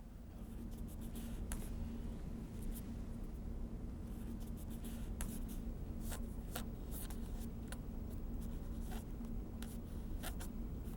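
Scratchy strokes of an old-fashioned pen writing by hand on paper, in quick bursts and steady scribbles over a low constant hum, close and fairly quiet with no talk.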